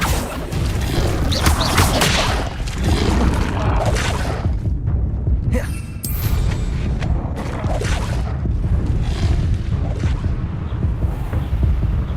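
A Confringo fire spell in the Hogwarts Legacy game goes off amid loud, continuous booming blasts and whooshing impacts, with a sharp crackling burst in the middle.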